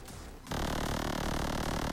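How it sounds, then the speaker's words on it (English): A sudden harsh, buzzing electronic tone kicks in after a moment of faint noise, holding loud and steady with a gritty, wavering texture. "So the oscillator naturally sounds like this."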